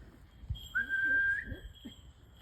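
A single sustained human whistle to a falconry bird at Mont Orgueil Castle, Jersey, clear and fairly close, held for under a second over quiet background noise.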